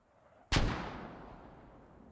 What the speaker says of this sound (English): Mortars trying to find more defenders.